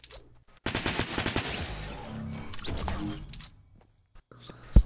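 Rapid bursts of gunfire from the video game Fortnite, dense volleys of shots crackling close and loud for a few seconds before breaking off, with a player's voice heard faintly in the mix.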